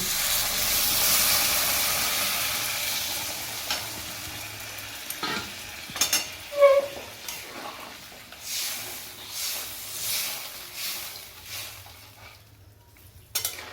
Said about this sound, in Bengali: এবার আমরা এর মধ্যে দিয়ে দেবো জল।